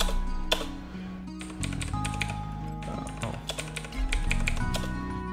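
Keys pressed on a computer keyboard, a run of irregular clicks and taps of varying loudness, close by, over a steady background hum and tones.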